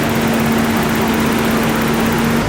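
BMW E30 engine running, a steady close droning hum with a constant low tone and no change in revs throughout.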